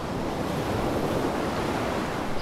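Loud, steady rush of crashing ocean waves on the start screen of the video game DayZ Standalone, a continuous broadband surf roar with no talking.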